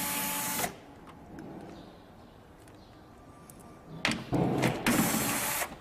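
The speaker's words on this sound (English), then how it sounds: "I've got a power screwdriver, which just makes our life simple." A power screwdriver undoes the mirror bolts on a Toyota Land Cruiser 200 Series. There is a close whirring burst at the start, a quiet pause, then more whirring in short bursts toward the end.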